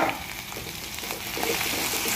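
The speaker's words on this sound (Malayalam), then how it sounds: "നല്ല പഴുത്ത ഒരു നല്ലൊരു തക്കാളി കൂടെ നമ്മളിതിലേക്ക് ചേർത്ത് കൊടുക്കുകയാണ്" Chopped ripe tomato hits hot onions in a pan for an okra masala roast, giving a steady close sizzle and frying crackle with light stirring, no talk.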